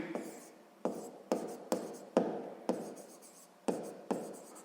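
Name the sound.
writing a math solution by hand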